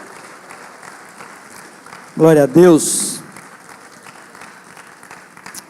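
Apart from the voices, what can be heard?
church congregation applauding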